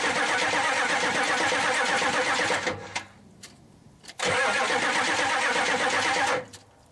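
A 1984 Chevy 6.2 diesel engine cranks over on the starter in two loud, steady bursts of a few seconds each, separated by a short pause, close up while the mechanical fuel pump is being tested.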